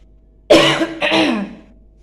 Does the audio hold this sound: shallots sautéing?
no